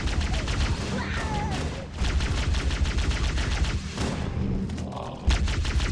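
Dense bursts of gunfire from Halo: Combat Evolved, rapid automatic shots and thuds overlapping with echoing booms, loud and continuous across the stretch with brief lulls.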